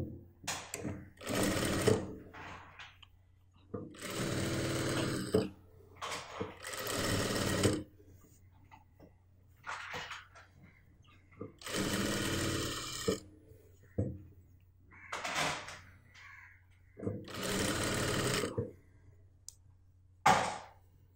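Sewing machine stitching the neck of a churidar, a series of short whirring bursts of one to two seconds, stopping and restarting repeatedly as the fabric is guided, close and fairly loud.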